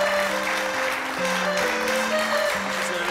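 Brief burst of applause from a group, steady clapping under a sustained musical tone with shifting notes, continuing evenly throughout.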